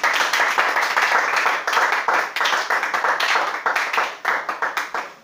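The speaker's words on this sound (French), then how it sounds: "Si tu es content, acclame le Seigneur Jésus-Christ" A church congregation claps and applauds loudly and close by. Dense, rhythmic hand claps run steadily throughout and grow into more distinct, spaced claps toward the end, with no speech over them.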